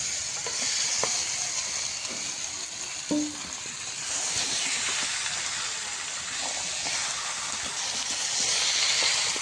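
Spice-coated meat hits a pan of fried onion, garlic and ginger, giving a loud, continuous sizzling hiss that lasts throughout, with a few faint clinks beneath.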